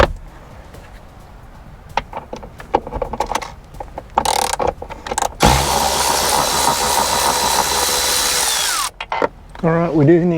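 A power tool whirs on a Jeep Gladiator, removing a bolt, first in short bursts among clicks and handling noise, then in a long steady loud run before winding down.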